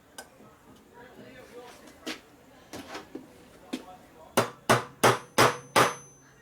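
A new dowel is hammered into a Harley Shovelhead motor case. Sharp metallic taps start out scattered and light, then turn into a run of five or six hard, evenly spaced blows close by.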